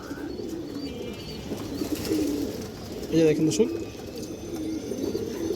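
Adult pigeons coo in low, soft rolling bursts across the whole stretch, with someone talking over them nearby.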